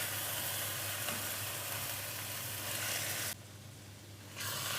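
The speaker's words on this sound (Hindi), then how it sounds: "15 से 20 मिनट अब इसको भूनेंगे हम अच्छी तरह" Lauki halwa roasting in pure ghee in a pan gives a steady, faint sizzle and crackle that runs on evenly and then dips briefly before resuming.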